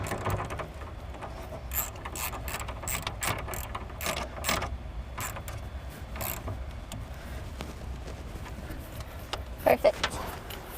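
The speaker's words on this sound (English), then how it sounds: "use your 10mm again to tighten that bolt down" A ratchet fitted with a 10mm socket clicks in repeated quick bursts as it tightens a bolt on a 2019 Chevrolet Cruze hatchback during trailer wiring work, close and clear over low background noise, with a few sharper clacks near the end.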